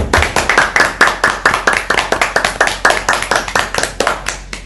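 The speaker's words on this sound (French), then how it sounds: "Applaudissons pour cette soeur." A church congregation claps for a young woman of twenty in crisp, rhythmic unison beats, about four per second, loud and close over a faint low hum.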